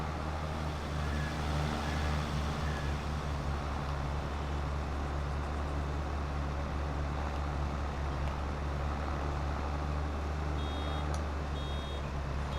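A reversing vehicle in the Farming Simulator 22 farming game beeps in short, regular, repeated pulses over a loud, constant engine drone, clearest toward the end.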